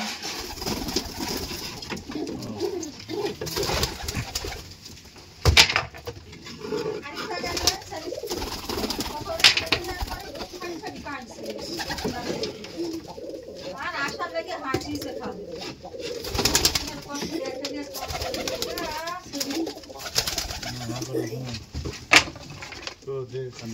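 Pigeons cooing in a pigeon farm, soft repeated coos under steady background noise, with occasional knocks and thumps from the coops and a voice talking intermittently nearby.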